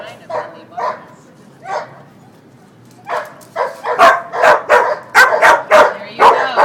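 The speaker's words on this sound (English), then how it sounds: "Now that bark alert, that bark is very, very important." A search and rescue service dog gives a bark alert: a few scattered barks at first, then a rapid run of loud, close barks. Some voices are heard faintly in the background.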